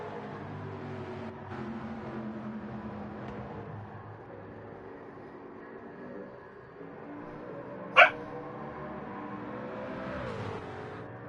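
A dog gives one short, sharp bark partway through, heard over a steady engine drone from a GT car race at Le Mans.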